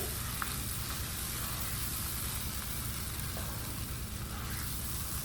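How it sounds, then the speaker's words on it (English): A shrimp cheese sauce stirred in a pan for shrimp mac and cheese, a constant low bubbling sizzle under steady broad noise, with a few faint utensil taps and no speech. "Stir it up really good"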